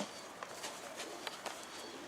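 Pigeons cooing softly near a loft, a few faint low coos over quiet outdoor background.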